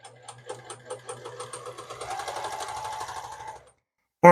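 Sewing machine driven by its foot pedal at full speed, a close, steady mechanical whir with rapid needle rhythm that runs for about three and a half seconds, then stops abruptly.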